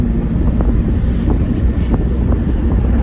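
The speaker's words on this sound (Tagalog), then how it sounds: "Wow, ang lamig ng hangin." Steady wind buffeting the microphone, a loud continuous low rumble with gusty texture throughout.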